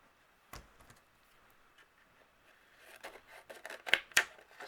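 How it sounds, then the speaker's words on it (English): Scissors trim around a paper window frame for a frosty card, a few quiet isolated snips early and then a quicker run of sharper close cuts, with no talking. "then using my scissors, I'm going to trim around it."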